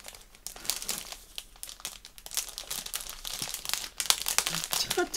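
A strong cellophane bag crinkles and crackles loudly up close as it is pulled open, in uneven bursts of crumpling and tearing that grow sharper toward the end.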